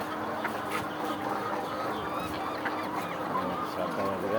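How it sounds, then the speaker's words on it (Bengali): Thousands of chickens on a poultry farm make a dense, constant clamor of clucks and squawks that fills the space without pause, with faint talk in the background. "খাওয়ার জন্য লোভে দাঁড়া আছে হাজার হাজার মুরগি"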